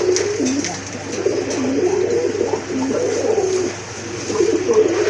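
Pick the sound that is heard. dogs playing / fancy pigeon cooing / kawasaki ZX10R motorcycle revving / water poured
fancy pigeon cooing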